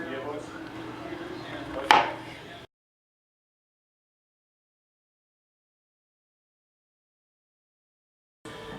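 A kitchen knife cuts mushrooms in half: one sharp knock on the board over a faint background, then silence.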